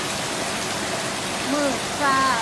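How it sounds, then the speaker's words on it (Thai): Rain falling steadily as the first rain of the year arrives, a close, even hiss of drops on surfaces with no pauses, while a voice can be heard faintly beneath it near the end. "ฝนตกฝนตกเนี่ยเบิงค่ะ"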